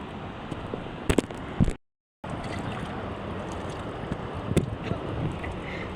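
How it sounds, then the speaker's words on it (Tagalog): Sea waves washing around a boat out on the water, heard as a steady rushing wash with wind buffeting the microphone, a few splashy knocks near the start and a brief dropout partway through. "Yan guys, alon."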